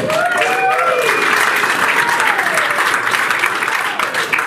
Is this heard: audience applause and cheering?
yes